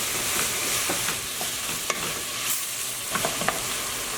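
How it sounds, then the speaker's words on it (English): Minced meat browning in a hot pan, seasoned with salt and black pepper, gives a dense, continuous sizzle with scattered crackles and stirring taps, close and steady, with no voices. "Once your mince has started to brown"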